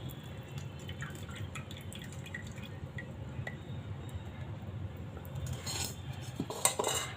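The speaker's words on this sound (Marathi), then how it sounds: "आता आपण हे गाळून घेऊ पाणी" Dissolved jaggery water strained through a kitchen strainer, a low steady trickle and drip under light clinks of metal utensils, growing a little louder and rattly toward the end.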